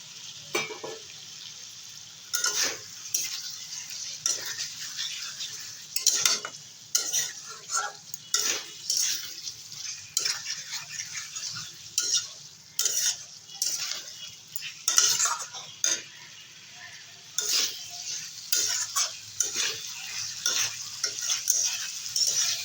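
Fried pointed gourd (potol) being stirred into fish curry masala in a pan makes repeated close spatula scrapes and metal clinks in an uneven rhythm over a faint sizzle, with no talking.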